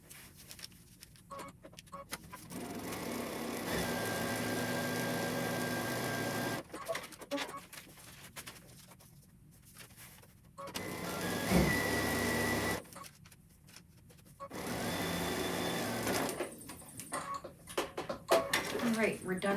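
A sewing machine stitches paper-pieced quilt units for a fracturing star block, running in three steady bursts of close, moderately loud whirring separated by brief pauses, with a person talking over parts of it.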